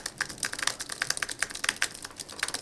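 Typing on an Apple Magic Keyboard, a fast run of light, crisp key clicks close up, irregular in rhythm and heard alone without talk.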